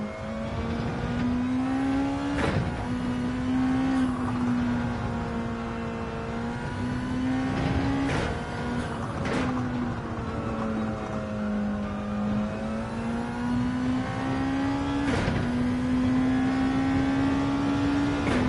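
A car engine in Gran Turismo 7 holds a steady, loud drone that rises and falls gently across the whole stretch, with occasional sharp shift-like clicks and no voices.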